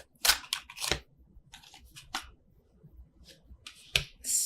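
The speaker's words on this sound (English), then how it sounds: "So let me do the overhand." Tarot cards shuffled overhand in several quick bursts, crisp flicks and slaps up close, separated by short pauses.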